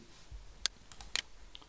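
Computer mouse clicks made while placing wires at each junction in the KiCad 5 schematic editor: two sharp, close clicks about half a second apart, with a couple of fainter ticks after them, in a quiet room with no talking.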